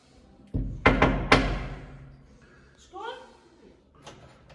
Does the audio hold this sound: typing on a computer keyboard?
no